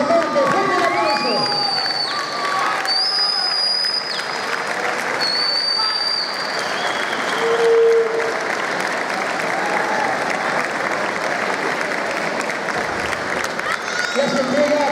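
Audience at a band appreciation ceremony in Tazacorte claps steadily and loudly throughout, with cheering and a few whistles over the crowd.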